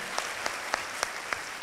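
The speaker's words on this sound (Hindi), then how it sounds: "एक बार तालियां बजती है भाई।" An audience of students at an event claps: a dense, steady wash of applause with a few sharper individual claps standing out, lasting under two seconds with no talk over it.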